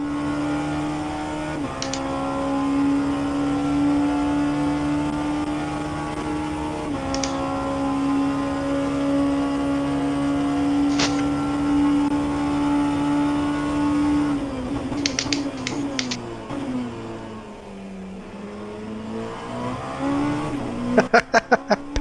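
Racing car engines in rFactor 2 drone in steady layered tones, then waver and shift pitch as more cars load in one by one, with a few sharp clicks at the end.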